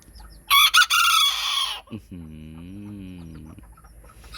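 Farm chickens heard up close: a rooster lets out a loud crowing call, followed by a drawn-out lower clucking cry from a hen, fairly near and alone.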